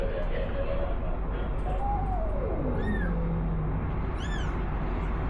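A mother cat meows a few times, rising and falling calls over steady background noise and chatter, fairly close.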